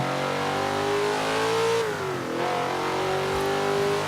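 Chevrolet Supersport engine in Forza Horizon 4 holds a loud, steady rev that dips briefly in pitch near the middle before climbing back, heard alone and up close.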